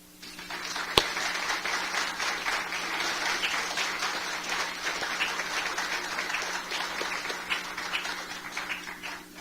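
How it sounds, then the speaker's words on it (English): A sustained round of applause from a seated forum audience honoring community grant recipients, dense steady clapping filling the room at moderate distance with one sharp click near the start. "Would the recipients please stand for a round of applause?"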